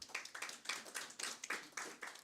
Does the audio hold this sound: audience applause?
yes